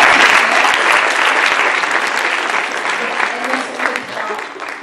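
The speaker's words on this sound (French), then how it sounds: "On les applaudit bien fort." An audience at the Lusolympiades in Martinique loudly applauds students, a dense, sustained burst of many clapping hands that tapers slightly toward the end.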